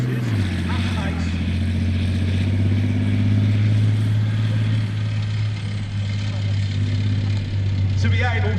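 A British Army armoured vehicle fitted with a mine plough drives past at a Tank Fest 2025 demonstration, its heavy engine droning loudly and steadily with a deep rumble that shifts slightly as it moves.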